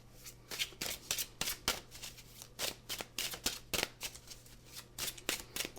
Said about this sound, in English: I'm going to do a one card draw from each deck in that question and answer format